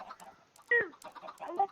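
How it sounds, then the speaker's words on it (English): Chickens on a Minecraft chicken farm cluck in short, scattered bursts, several quick calls over under two seconds, moderately close and fairly quiet. "welcome to my chicken farm"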